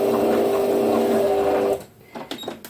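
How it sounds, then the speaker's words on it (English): A sewing machine running a steady straight lock stitch at the end of a jersey top hem, loud and close with a constant whirring drone that stops abruptly, followed by faint handling sounds. "the final few stitches are just in straight stitch again"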